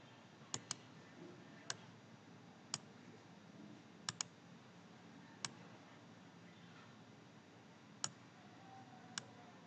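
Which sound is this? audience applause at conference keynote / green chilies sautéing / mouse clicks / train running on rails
mouse clicks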